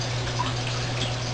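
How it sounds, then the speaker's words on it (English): Water sprays steadily from the sprinklers of a home-made aeroponic system, a continuous close hiss with faint drips over a constant low pump hum, with no one speaking. "As you can see here, it's sprinkling where it should be sprinkling."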